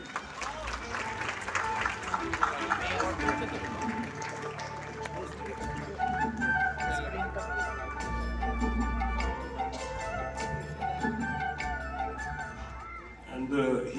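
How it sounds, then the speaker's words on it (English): Audience applause at an Indian film festival awards ceremony in Kolkata, steady clapping from a large crowd filling the hall as a director walks up to the dais, with voices and crowd noise mixed in throughout. "let's keep the applause coming"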